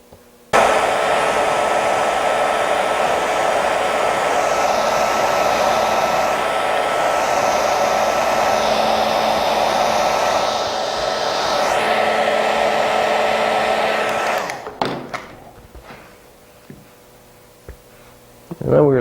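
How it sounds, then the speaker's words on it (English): A heat gun blows a steady, loud, close roar onto leg wrinkles for about fourteen seconds, then cuts off, leaving faint handling noises. "we'll probably end up just using the heat gun just a second on them again too"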